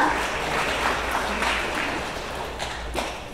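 Audience at a Web3 summit pitch event applauds after a pitch, a dense, steady wash of clapping from a crowded hall, moderately loud and fading slightly toward the end, with no speech over it.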